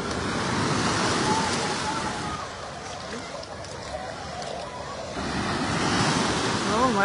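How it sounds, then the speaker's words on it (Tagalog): Artificial waves surge through a resort wave pool, a steady rushing wash of surf that eases in the middle and swells again toward the end, with faint voices in the background. "Oh, mara siya tinood ang wave."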